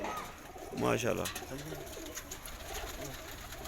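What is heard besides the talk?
pigeons cooing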